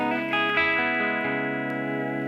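Distorted electric guitar chord from a Fender Jazzmaster through a Boss Nextone amp set as a 6L6-style amp, ringing out steadily with a processed, effects-laden tone, sustained and loud with no talking.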